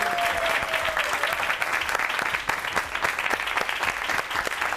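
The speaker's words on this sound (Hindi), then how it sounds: "शोएब अख्तर के लिए भरपूर तालियां" An audience gives a standing ovation at a cricket celebration show, a dense, continuous wash of clapping from a large crowd that stays even and moderately distant throughout, with no voices over it.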